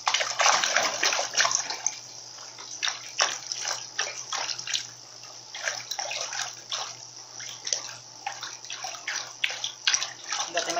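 A Newmaq twin-tub washing machine churns a load of white clothes, with continuous water sloshing and swishing in rhythmic surges over a low motor hum, close and fairly loud.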